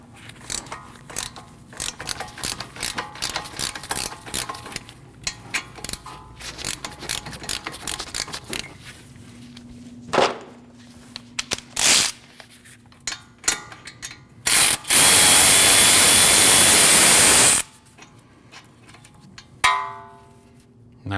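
Work on the front wheel bearing of a 2014-2023 Jeep Cherokee: the four E14 bolts are removed with scattered ratcheting clicks and metallic handling, then a loud, close burst of a power tool runs for about three seconds.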